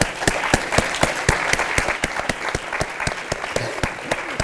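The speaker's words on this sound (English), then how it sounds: "let's give them a hand" An audience claps for panelists at a talk on online video news. The applause comes as distinct, fairly even hand claps from a modest crowd, close and moderately loud.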